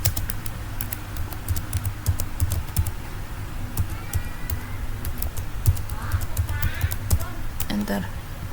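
Fingers type a command on a computer keyboard, producing quick, irregular key taps close up beneath a person speaking.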